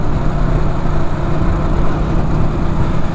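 A 1991 Suzuki RGV 250 VJ22 two-stroke motorcycle engine being run in, holding a steady, loud, continuous drone at fairly constant revs with no voices over it.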